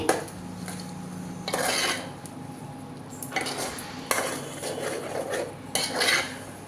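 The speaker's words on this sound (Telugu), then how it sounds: "ఇవన్నీ వేసి బాగా మిక్స్ చేయండి" A spoon scrapes and clanks against a pan while prawn gongura curry ingredients are mixed, in close, repeated bursts of metallic stirring with brief pauses between them.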